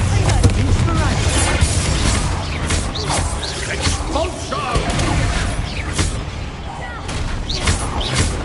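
The Bombarda spell explodes in Hogwarts Legacy with heavy booms and crashes inside a loud, dense wash of combat effects and rumble that runs the whole time.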